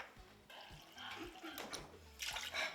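Water poured from a cup into a blender while making a smoothie, a quiet splashing trickle with a few small bursts of gurgle, heard close up.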